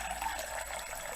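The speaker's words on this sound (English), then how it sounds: "get some water put into the saucepan" Water from a kitchen tap runs steadily into a saucepan, a continuous close rushing flow lasting about a second without any talking.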